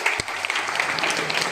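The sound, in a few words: loud applause from the audience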